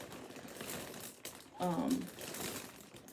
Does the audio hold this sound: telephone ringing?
no